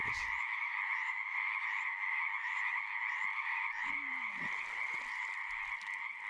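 A frog in dense blackberry bushes in the wild, croaking steadily in a loud, continuous pulsing call with no voices present.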